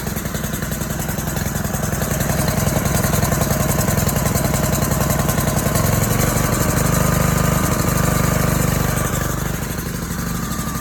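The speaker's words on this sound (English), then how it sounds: "You can push your choke in just a little bit until your engine stops sputtering." A gasoline engine on a pressure washer runs steadily while warming up after starting, giving a loud, close, continuous chugging drone with a rapid pulsing beat and no speech.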